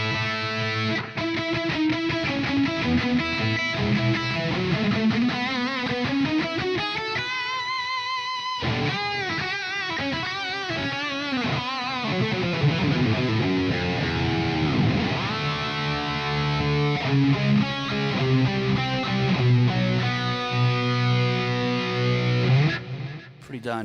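Electric guitar tone from a Fractal amp modeler, with delays panned left and right: continuous, loud, distorted lead and riff playing with sustained notes and echoing repeats, running with no talking throughout.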